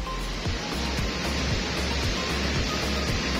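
Continuous roar of surf with rhythmic surges of breaking waves, loud and close, no voices.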